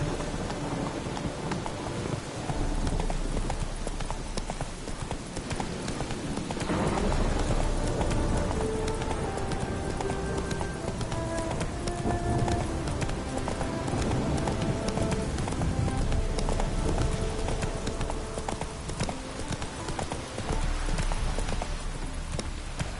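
Roach the horse galloping in Witcher 3, rhythmic hoofbeats thudding under a dense wash of rain and distant thunder, continuous and fairly loud, with game music faintly beneath.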